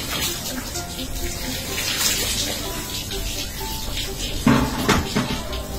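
Water runs steadily from a tap while someone is being bathed. The flow makes a continuous close hiss, with a few splashes and knocks near the end and faint voices underneath.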